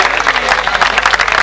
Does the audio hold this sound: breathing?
no